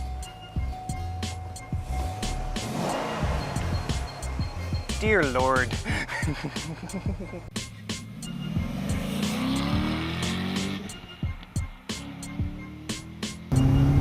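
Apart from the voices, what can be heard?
2008 Corvette Z06 engine running and driving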